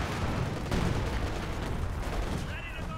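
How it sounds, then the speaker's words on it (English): German LEFH artillery shelling in Company of Heroes 2 on the Wolfheze map, a dense barrage of heavy booming blasts and rumbling impacts packed closely together, loud and continuous. "LEFH is pounding that position"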